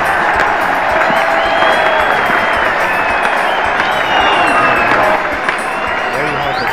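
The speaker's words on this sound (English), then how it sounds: "There you have the cheers of the hundreds and thousands of Barbadians who have come here to witness this momentous occasion" Hundreds of thousands of Barbadians roar and cheer as the Barbados flag is raised at the independence ceremony, a dense, continuous crowd noise with applause mixed in, loud and sustained throughout.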